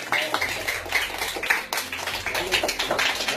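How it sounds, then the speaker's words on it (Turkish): A small gathering claps for an elderly guest at a grandparents and grandchildren meeting, a few seconds of uneven, fairly sparse hand claps nearby. "Kendisini şöyle bir alkış yapacağım."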